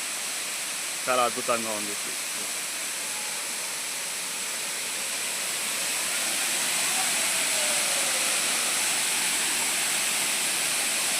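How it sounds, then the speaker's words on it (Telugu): A steady, broad rush of falling water from a cleaned-up waterfall fills the scene, constant and fairly loud, with someone speaking briefly over it near the start. "మా జలపాతం"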